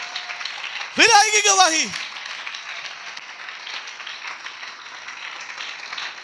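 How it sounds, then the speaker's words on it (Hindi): A church congregation claps for Jesus in a short loud burst of about a second amid worship, with someone speaking before and after the applause. "यीशु के लिए ताली है तो जोर से बजाइए, समर्पण के साथ बजाइए ना"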